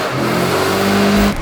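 A 400hp V8 swapped into a Hoonigan merch van revs hard up close, a loud rising roar that climbs in pitch for about a second before dropping off.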